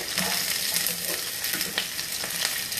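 Onions sizzling in a hot pan, a loud, dense, close frying hiss with occasional crackles and stirring scrapes, no speech.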